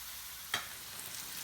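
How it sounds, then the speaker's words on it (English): Chicken pieces sear in a hot pan with a steady, moderately loud sizzle and a brief sharper hiss partway through, with no one talking. "I'm going to let them sear on both sides for a couple minutes until they're nice and brown"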